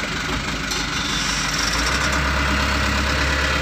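A Hino Dutro 300 truck's engine revs up in first gear from a standstill, a steady loud low diesel drone that swells slightly and runs continuously with no talk over it.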